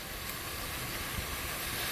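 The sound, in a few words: liquid boiling in pot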